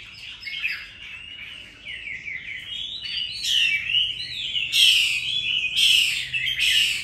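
Pet birds kept on the upper floors of a house chirp and tweet in quick, overlapping bursts, with a few louder, sharper calls toward the end; nearby and fairly clear.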